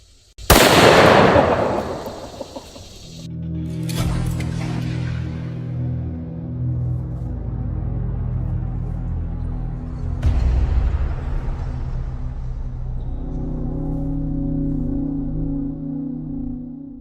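A CZ 550 rifle in .505 Gibbs firing a 600-grain bullet at a pudding target gives one loud, sharp close-range blast, followed by a second crack and a long rumbling decay with a low drone underneath.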